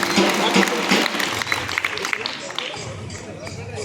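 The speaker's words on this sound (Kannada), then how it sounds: "ಒಂದು ಜೋರಾದ ಚಪ್ಪಾಳೆಗಳು ಬರಬೇಕು ವಿದ್ಯಾರ್ಥಿಗಳಿಗೆ ಆತ್ಮಸ್ಥೈರ್ಯದಿಂದ" Loud applause from students and parents at a school Republic Day celebration, a dense sustained clatter of many hands mixed with crowd murmur, steady throughout with brief dips.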